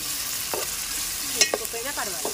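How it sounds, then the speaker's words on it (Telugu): Ginger garlic paste frying with onions in a pan for a raw banana curry, a soft steady sizzle with a few light stirring scrapes and clinks, close and alone. "వేగిన తర్వాత కొద్దిగా అల్లం వెల్లిగడ్డ పేస్ట్ వేసుకోవాలి"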